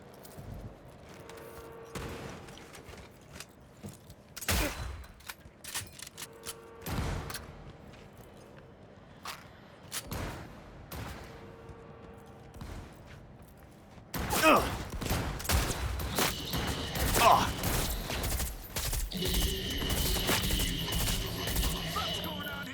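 Shotgun blasts ring out in the video game Cyberpunk 2077, a string of sharp booms spaced a few seconds apart, then a denser burst of gunfire and clatter, with voices heard over it.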